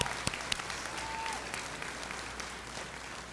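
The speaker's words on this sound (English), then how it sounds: "Please give this group a round of applause." An audience at a high school graduation ceremony claps steadily and evenly throughout, a dense, moderately distant wash of applause with a few sharper individual claps standing out.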